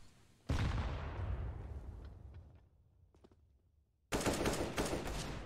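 Counter-Strike gunfire on the Cache map comes in a loud spray of rapid rifle shots that rings out and fades. Scattered single clicks and shots follow, then a second burst of heavy automatic fire cuts in abruptly.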